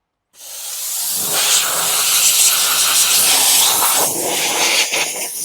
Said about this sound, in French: L'avantage, c'est qu'avec la vapeur, je passe bien dans tous les interstices,